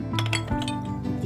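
Clay diya lamps knocking and clinking together while being washed, a quick cluster of bright taps over running water in a short burst.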